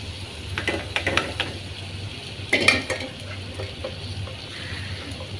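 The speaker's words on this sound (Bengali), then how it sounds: "পেঁপেগুলো দিয়ে দিচ্ছি।" Boiled papaya pieces, cooked with shrimp, go into a pan over low heat and are stirred. Soft scraping and clinks of a spoon sound over a faint, steady sizzle, with no talking.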